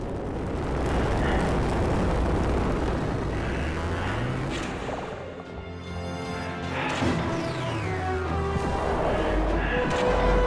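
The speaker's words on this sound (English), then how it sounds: "Orcs, keep shooting out those vents!" Phaser fire blasts at vents in a Star Trek game, heavy rumbling bursts and crashing impacts over a continuous roar, loud and sustained with a brief lull midway.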